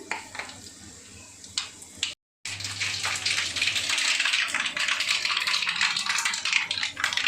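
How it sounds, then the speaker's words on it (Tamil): Mustard, fenugreek and fennel seeds frying in hot oil in a pan for garlic kuzhambu, giving a steady, dense sizzle that grows louder and fills the second half after a brief gap, with a few soft taps earlier. "கடுகு வெந்தயம் சிட்டிக்க சோம்பு நான் அந்த பழக்கம் உண்டு அதனால் போடுறேன் போட்டு எண்ணெயில் நல்லா பொறிக்கிட்டோம்"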